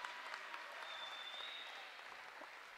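Steady applause from a high school gym crowd at a girls' basketball game, honoring two graduating seniors; fairly faint and continuous, with no talk over it.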